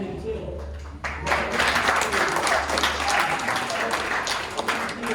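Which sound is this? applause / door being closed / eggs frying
applause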